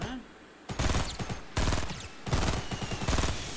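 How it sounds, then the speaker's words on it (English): Rapid bursts of weapon fire in a multiplayer shooter video game, likely a rocket launcher among gunfire, come in three loud broadband blasts with crackling tails, close and dominant. "Oh, that's a rocket launcher."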